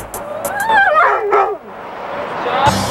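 A search and rescue dog at a rubble pile gives a run of high, wavering whines and yelps up close, which give way to a steady rushing background noise.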